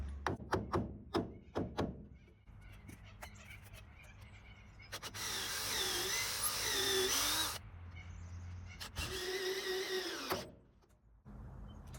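A power drill drives a batten screw into hardwood after a string of sharp knocks, whining in two strained bursts up close with quiet gaps between.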